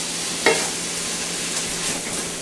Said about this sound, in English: Oh yes, our soup is boiling away.